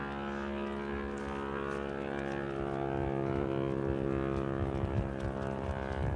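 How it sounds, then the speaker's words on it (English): A loud motorcycle engine drones past near the Gynn sea wall in Blackpool, a steady harmonic roar that holds strong for several seconds and swells slightly toward the end. "I bet, Stuart, you can tell me what kind of motorcycle that is just off its noise."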